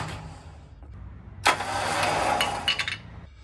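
Close up, a Warn electric winch winching in kicks on with a sharp jolt and whines steadily for about a second and a half before winding down.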